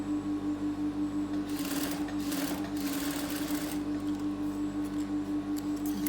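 A sewing machine runs steadily while stitching a nightie with a yoke, a continuous mechanical whir with a low hum, its motor speeding up into brief louder bursts midway, close and with no talking.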